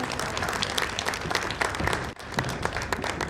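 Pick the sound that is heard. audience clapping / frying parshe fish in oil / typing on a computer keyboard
audience clapping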